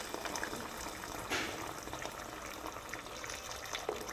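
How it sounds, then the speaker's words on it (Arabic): Hot water poured onto fried chicken in a pot, a continuous hissing, bubbling rush with a splashy burst near the start, moderately close and steady for several seconds. "هنايا بعد ما تقلى الدجاج غادي نضيف الماء سخون بحال هكا"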